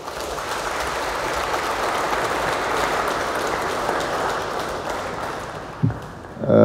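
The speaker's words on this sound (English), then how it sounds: "appreciate the sacrifices and services by giving him a round of applause" Audience applause at a government executive council session, a dense continuous roar of clapping held at fairly loud level, dropping briefly near the end before a short burst of other sound.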